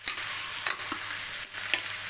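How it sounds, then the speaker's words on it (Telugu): Mutton curry is stirred and fried in a pan: a dense, close sizzle with a few scraping stirs breaking through at irregular moments. "ఇలా ఒకసారి మటన్ అంతా కలుపుకోవాలి."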